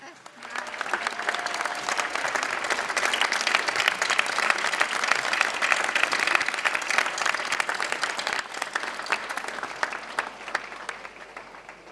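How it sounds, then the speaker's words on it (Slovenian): Crowd applause at an outdoor May Day celebration in Opatje Selo, dense and steady clapping that holds for the whole stretch before tapering slightly at the end. "Hvala lepa za vse te aplavze"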